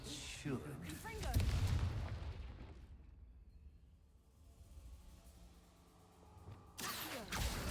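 A Confringo blast spell is cast in a Harry Potter video game, with a loud, booming explosive burst near the start, a quieter rumbling stretch, then another sharp blast at the end.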